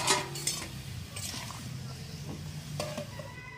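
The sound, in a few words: covered vegetables and prawns cooking in a pan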